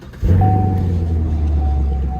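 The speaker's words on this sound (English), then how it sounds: "Sounds amazing too. Listen, ready?" A 2017 Chevrolet Camaro SS V8 starts up and settles into a loud, steady low rumble close by, with a faint thin whine running over the idle.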